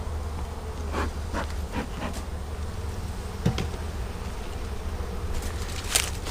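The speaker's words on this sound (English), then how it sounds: "they're full of bees too" Steady buzzing from many honeybees during a fall hive inspection, a dense continuous drone with brief louder passes as individual bees fly close.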